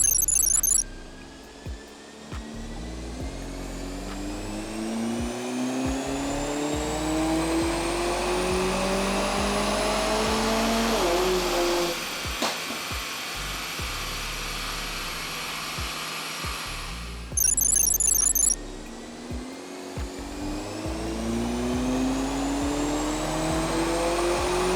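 A tuned Mercedes CLA45 runs hard on a dyno, with its engine rising in pitch through repeated gear pulls and dipping at each shift. The loud, close roar sweeps upward several times, with a brief high whine near the start and again later.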